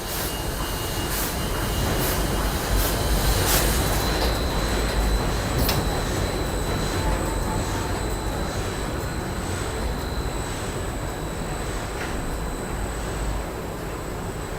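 An MK die cutter machine hums steadily through a changeover, a dense continuous mechanical drone with a few high whines and faint clicks, near and fairly loud with no voices.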